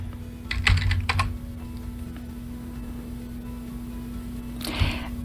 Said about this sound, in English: Let's type in coffee.